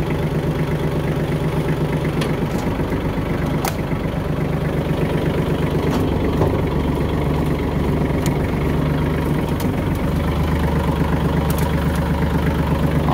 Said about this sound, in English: This is a Kubota tractor.